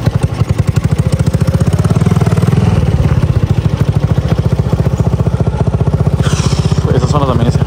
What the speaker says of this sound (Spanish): Esta moto la quiero poner bonita, hermano.